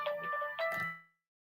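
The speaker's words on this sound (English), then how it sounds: "That's a phone call." A phone ringtone plays a short, bright electronic tune in a few quick notes. It is fairly close and stops abruptly, then the sound fades to silence.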